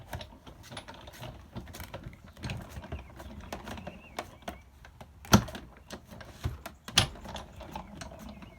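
A hand-cranked die-cutting machine feeds paper for card making, giving irregular ratcheting clicks, gear rattles and a few sharper clunks, close and continuous throughout.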